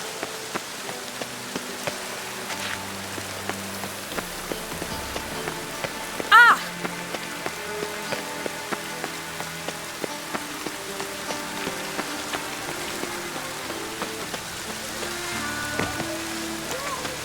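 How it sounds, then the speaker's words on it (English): Rain falls steadily in Witcher 3, a soft continuous patter dotted with individual drops, while a voice briefly exclaims. "Looks like rain."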